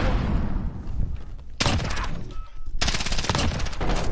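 A very fast-firing gun in Call of Duty: Modern Warfare lets off two long loud bursts of rapid shots, separated by a short pause, after a stretch of rumbling background battle noise.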